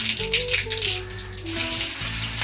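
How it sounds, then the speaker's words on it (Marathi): Cumin and mustard seeds sizzle steadily in hot oil with a bright crackling hiss, while a background hum and tonal music-like notes run underneath throughout. "इथे आपण फोडणीसाठी घेतलेलं तेल तापलं आहे ह्यात आता आपण ॲड केलं आहे जिरा आणि राई"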